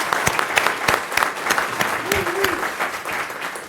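Audience at a city council meeting breaks into applause, a dense steady round of clapping from a roomful of people lasting a few seconds, with a brief voice rising through it near the end.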